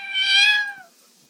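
A parrot mimics a cat's meow in one clear, close, tonal call that rises then fades over about a second, loud and alone with no talking.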